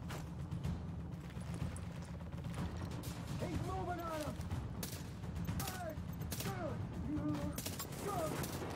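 Sniper rifle gunfire in Tom Clancy's The Division on Xbox One, sharp shots cracking amid a dense, continuous battle din of other gunfire and explosions, with someone talking over it throughout.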